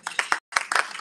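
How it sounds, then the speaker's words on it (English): Brief burst of applause for elected officials at a community luncheon, a small crowd clapping quickly and unevenly with a short gap in the middle, moderately close and without voices. "yes, round of applause"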